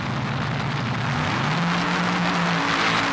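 Two drag racing cars launch side by side at the 1978 NHRA Summernationals with a loud, close, unbroken engine roar whose pitch climbs steadily as they pull away.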